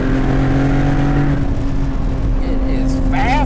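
A BMW M Roadster engine revs hard while driving, a loud sustained high-pitched scream with rising and falling tones as it accelerates and shifts, close and constant throughout.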